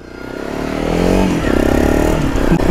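A motorcycle engine rises in pitch as it accelerates, then holds a steady, close, throbbing drone with some rattling.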